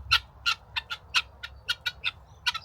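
Rapid, repeated high-pitched calls from chickens, about a dozen short bursts in an irregular rhythm, fairly close, with a low rumble underneath.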